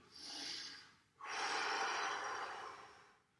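A forceful breath exhaled during an abdominal exercise using the Gasquet method: a brief puff, a short pause, then a longer, steady, close airy exhale lasting about two seconds, with no talk.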